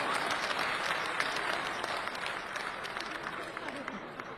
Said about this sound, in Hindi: ताली बजा दो उनको, वहां सुन लें